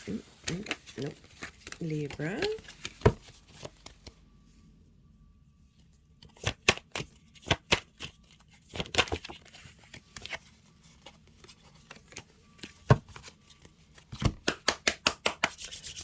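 Tarot card decks are shuffled in bursts of rapid riffling and soft flapping, separated by quiet pauses, with a person speaking faintly in the opening seconds.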